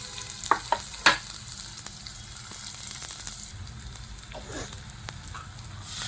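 Chopped onion fries softly in a pan for a water chestnut sabji, a quiet steady sizzle broken by a few brief clinks and scrapes of stirring early on.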